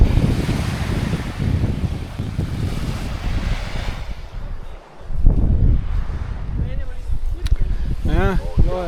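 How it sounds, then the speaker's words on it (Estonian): Strong gusty wind at a lake shore where kitesurfers ride, blustering loudly against the microphone with wave wash beneath, easing briefly midway before surging again, while people speak over it near the end. "Täna on hea suur tuul"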